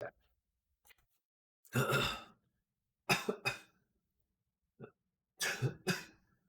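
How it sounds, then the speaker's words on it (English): A person coughs and clears their throat several times in short, close bursts separated by quiet pauses. "I'm so sorry to be coughing so much, everyone."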